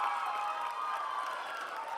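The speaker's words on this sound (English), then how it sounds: "the crowd went off the charts when their homecoming king was announced" A packed crowd at a Limestone High School homecoming cheers and roars in a steady, loud wash of voices with shouting mixed in, sustained throughout without a break.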